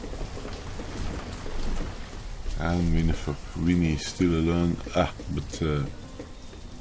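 Steady rain with thunder in the city-building game Banished, a continuous patter running under a voice talking over the middle of the clip.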